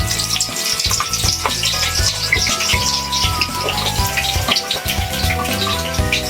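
Garlic fries in a pan while peanuts with skins are being cooked for adobo, giving a continuous loud sizzle with crackling pops layered over a steady hiss.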